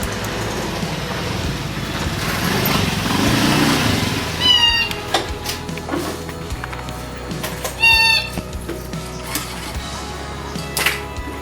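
A DTG t-shirt printer powers on and starts up: a busy mechanical hum, then several short whirring and chirping motor bursts from about the middle onward, close and moderately loud, with no talking.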